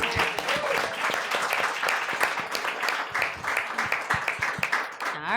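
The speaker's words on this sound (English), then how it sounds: "Let me give him a little round of applause." A panel audience gives a designer a round of applause, a dense, close burst of many hands clapping that carries on steadily for several seconds.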